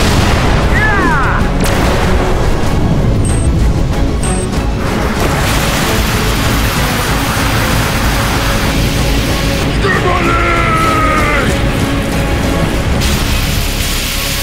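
Cartoon bomb explosion in an animated action scene, a loud sustained rumbling blast with crashing debris and dense roaring noise throughout, along with brief tonal sweeps and short beeps.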